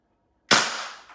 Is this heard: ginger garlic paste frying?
no